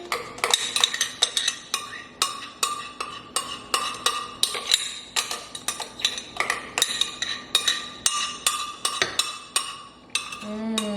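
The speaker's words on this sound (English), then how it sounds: "I'm going to be using a spoon just to get out all of the product out of the blender." Rapid clinks and scrapes of a metal spoon scraping food out of a blender jar, repeating in quick irregular bursts, close and fairly loud.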